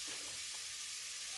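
Cumin seeds sizzle on a hot tawa: a steady, fairly faint hissing crackle with a few soft pops, alone without talk.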